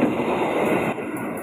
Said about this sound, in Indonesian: Kereta penumpang teman-teman.